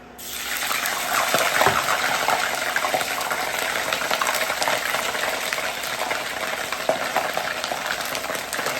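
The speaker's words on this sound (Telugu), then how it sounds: "ఇప్పుడు మనం రొయ్యలు వేసుకుందాము. రొయ్యలు ఫ్రై చేసుకోవాలి." Prawns fry in hot sesame oil, a loud, continuous sizzling hiss that surges as they go into the pan and then holds steady up close.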